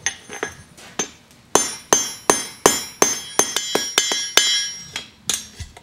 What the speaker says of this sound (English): I'm going to use the flat side of the hammer, the planishing side, to smooth out that crinkle cut French fry appearance